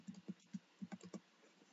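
A password typed on a computer keyboard at an Ubuntu login screen: about eight soft, faint keystrokes in an uneven rhythm, heard alone.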